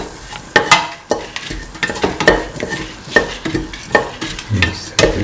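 A spoon stirs tomato rice in a hot pan with irregular scraping strokes and a soft frying sizzle, close and clear, with no talking.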